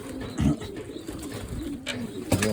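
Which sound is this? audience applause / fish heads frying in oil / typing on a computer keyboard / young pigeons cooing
young pigeons cooing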